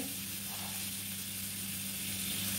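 Sweet-and-sour star fruit pickle cooking in its own released juices while being stirred in a pan, a dense continuous sizzle and bubbling hiss over a low hum, close and steady with no talk.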